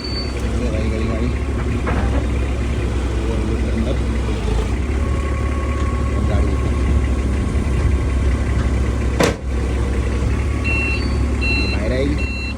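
A damaged accident car being moved out, its engine idling with a steady mid-pitched rumble, vehicle noise and reversing beeps around it, voices talking over it.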